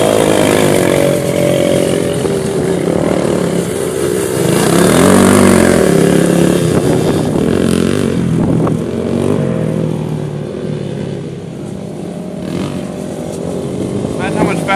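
A Suzuki motorcycle engine buzzes and revs loudly at an outdoor event, its harsh, continuous drone rising and falling over about fifteen seconds while several people talk and shout nearby.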